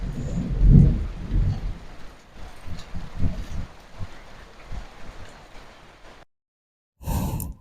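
Deep rumbling thunder rolls through a steady hiss of rain during a storm, loudest near the start and then sustained. The sound cuts out briefly before a final loud burst.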